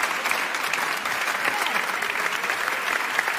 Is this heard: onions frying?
no